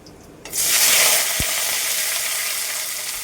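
Potatoes and chillies hit hot oil with cumin and dried red chillies, bursting into a loud, bright sizzle that holds steady and slowly eases, with a brief stirring knock partway through.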